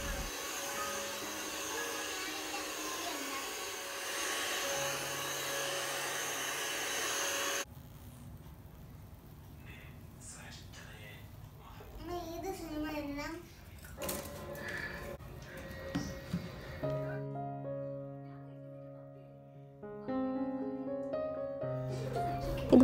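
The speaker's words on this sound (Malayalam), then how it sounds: "പിന്നെ വരച്ച് ജസ്റ്റ് വാക്യൂം ചെയ്തെടുക്കാം." A vacuum cleaner runs steadily and closely over a sofa for the first several seconds, then cuts off. Quieter household clatter and soft tonal sounds follow.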